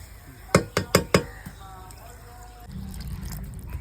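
Water is poured into a pan of fish curry with tomato, onion and spices, preceded by four sharp knocks, then a soft trickle and a rising low bubbling hiss; close and moderately loud.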